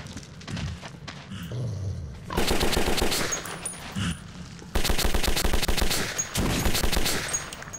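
Bursts of heavy automatic gunfire from the improvised Bastard gun in the post-apocalyptic shooter Metro 2033, rapid close rattling volleys broken by short pauses and low rumbling noise between them.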